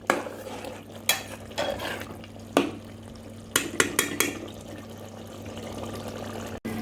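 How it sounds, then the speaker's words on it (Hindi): Minced meat qeema being fried and stirred in a pan with garam masala, giving scattered sharp scrapes and clinks of a spoon against the pan over a steady low sizzle, close and moderately quiet with no talking. "इसका पानी सूखने तक हम भूनेंगे।"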